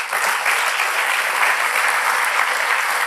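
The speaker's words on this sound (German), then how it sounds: "Applaus" Sustained applause fills a hall at a state party council meeting in Aachen, a dense, steady patter of many clapping hands without pause and with no speech over it.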